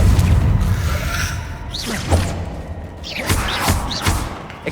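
The Confringo spell is cast during combat in the video game Hogwarts Legacy, producing a series of loud thumps, bursts and whooshing swishes in quick irregular succession over a dense rumbling background.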